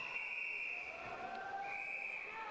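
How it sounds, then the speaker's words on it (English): A referee's whistle at a county swimming championship gives a faint, sustained shrill tone, briefly broken midway, heard from a distance over the echoing hum of an indoor pool hall. "The whistle means 2 lengths to go."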